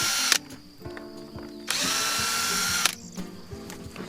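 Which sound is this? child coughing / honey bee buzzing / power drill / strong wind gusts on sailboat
power drill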